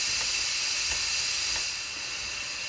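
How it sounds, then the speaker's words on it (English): Steam hisses steadily out of an Instant Pot's pressure release valve while brown sugar baked beans cook inside, a loud, continuous, broadband rush that eases slightly toward the end. "when all the pressure is released out of the pot, and that's when we're gonna know that it's safe to open up our Instant Pot"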